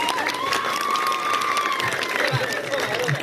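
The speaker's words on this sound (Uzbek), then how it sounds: "Olqishlab turinglar, olqish." Applause from an audience at a village Navruz celebration, a steady wash of clapping sustained throughout at moderate distance, with crowd noise and a faint voice running over it.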